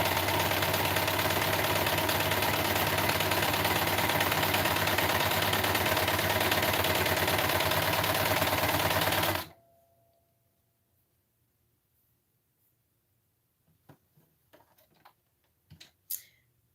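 A sewing machine runs steadily and loudly for several seconds while chain piecing fabric, then stops abruptly, leaving near silence with a few faint clicks and handling sounds.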